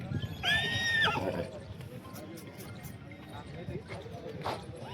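A horse lets out one loud, shrill whinny at a horse market in Yeola, Nashik, Maharashtra, followed by faint outdoor market noise and scattered voices in the background.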